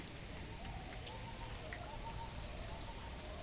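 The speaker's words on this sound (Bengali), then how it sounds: "ভালো বৃষ্টি নামছে" Rain falls steadily as a soft, continuous patter heard from a little distance, fairly faint and with no voices.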